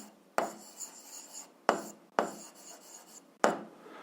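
Someone writes out an equation for a 7th-grade algebra exercise: a handful of short, scratchy strokes in an irregular rhythm, quiet and close, with no talking.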